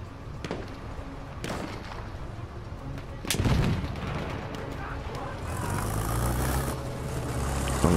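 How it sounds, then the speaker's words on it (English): Distant artillery barrage in Battlefield 1 during a fight for an objective, with repeated booming impacts and rumbling gunfire, one heavy blast near the middle, and a steady engine-like drone building toward the end. "Wait for the enemy artillery barrage to stop firing."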